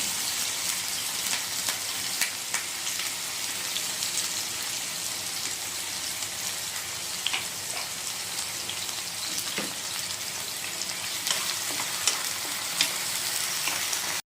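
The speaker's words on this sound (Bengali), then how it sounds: "তেল কিন্তু গরম হয়ে গেছে বন্ধুরা এখন দিয়ে নেবো তেলের মধ্যে পেঁয়াজগুলো" Steady, dense crackling sizzle of chopped onions frying in hot oil for chicken curry, continuous and close, with a few sharper pops and no voices.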